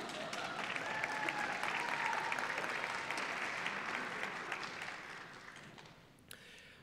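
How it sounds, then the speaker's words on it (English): An audience at a university Founders Day convocation claps for a student orator, a sustained wash of applause that gradually fades out. "Y'all can clap."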